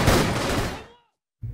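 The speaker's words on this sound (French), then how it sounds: "Le son du coup de feu de Jean Reno est composé en fait de 13 sons différents." A single powerful film gunshot for Jean Reno's character, built from thirteen layered sounds: a loud, dense blast that decays over about a second into silence before another burst begins.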